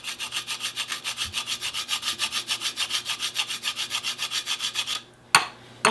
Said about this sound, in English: I'm just going to grate my nutmeg